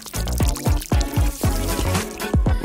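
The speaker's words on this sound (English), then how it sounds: "Just add water." Water poured into a small bathtub made from a plastic detergent bottle, loud close glugging in rhythmic surges, about six distinct gushes in quick succession, with no talking.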